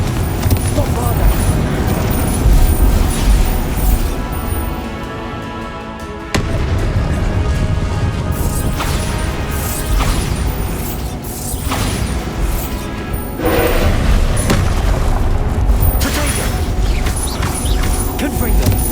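Rapid Confringo and Bombarda spell blasts crackle and boom nonstop through a Hogwarts Legacy battle, a dense, loud barrage of bursts with spoken incantations running over it.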